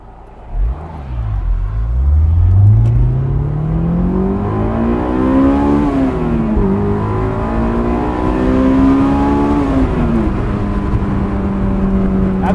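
A Honda S2000 AP1 engine climbs steadily toward 9,000 RPM, a loud, rising high-pitched wail that holds near the top, dips briefly as it shifts, then screams on again without pause.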